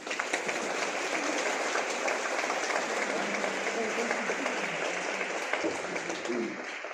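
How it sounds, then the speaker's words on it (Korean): Warm, sustained applause from a church congregation in Gyeonggi-Gwangju, South Korea, welcoming new members, with dense clapping at even strength and a faint murmur underneath before it fades near the end. "그리고 한번 뜨거운 박수 한번 주시죠"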